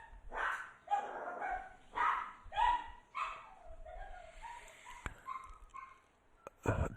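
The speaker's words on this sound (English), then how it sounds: "Dogs in the background." Dogs bark in the background in a series of sharp, irregular yaps and whimpers at moderate distance, with a brief quieter gap before a final loud bark.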